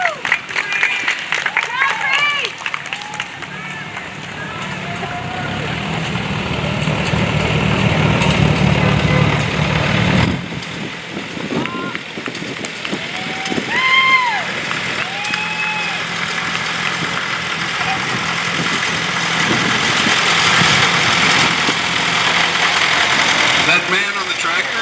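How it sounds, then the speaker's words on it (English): A tractor engine idles steadily at an eighth grade parade, a near, constant rumble that runs the whole time beneath talk and bursts of crowd noise. "That man on the tractor is Walker Kyle Chandler"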